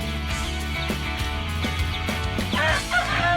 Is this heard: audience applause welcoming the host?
no